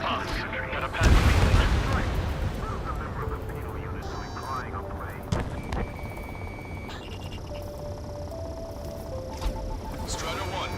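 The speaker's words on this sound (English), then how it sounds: "We're taking fire from our own allies." Ace Combat 7 aerial combat with incoming fire: a heavy explosion boom early on, then rumbling blasts, gunfire crackle and tonal cockpit warning beeps under the continuing battle noise.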